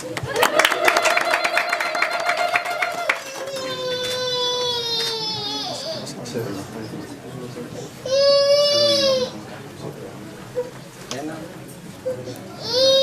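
Wedding guests at an Eritrean celebration in London burst into loud, high-pitched ululating trills, several voices warbling together in bursts. Quieter gaps separate the waves, and a person talks between them.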